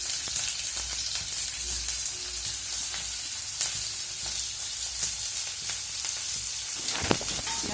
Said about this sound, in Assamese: এখন কেৰাহীত অলপ ৰিফাইন গৰম কৰি মই কেইটামান জিৰা দি দিলো এতিয়া তাতে মই পিয়াজখিনি দিম